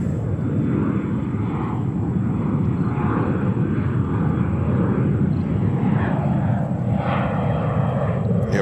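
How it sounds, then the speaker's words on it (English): An American Airlines Embraer 175 jet roars steadily at JFK Airport, a loud continuous low rumble and rushing noise of engines that fills the whole stretch without a break. "What you hear in the background, that's American Airlines. That's an Embraer 175."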